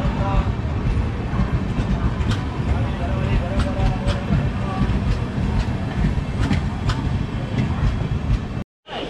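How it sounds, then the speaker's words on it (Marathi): The Diva–Sawantwadi Express on the Konkan Railway rolls into the station with a loud, continuous rumble and rattle of wheels and carriages, ending in a brief cutout. "11 वाजून 10 मिनिटांनी आपली ट्रेन आली आहे इथे दिवा सावंतवाडी"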